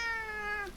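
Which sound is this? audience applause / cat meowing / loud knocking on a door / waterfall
cat meowing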